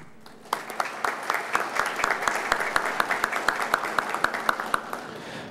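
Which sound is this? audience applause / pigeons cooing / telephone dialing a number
audience applause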